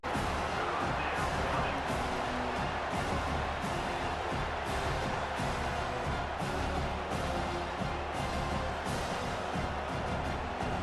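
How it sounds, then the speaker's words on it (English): Stadium crowd in College Football 25 roars steadily and loudly throughout as the defense lines up on third down, a dense, unbroken wall of cheering under play-by-play commentary. "Decibels rising as the crowd gets behind this defense on third down"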